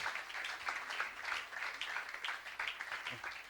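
A church congregation applauding and cheering during a worship service, a steady crowd of clapping with bright, dense texture at moderate distance, with faint voices mixed in.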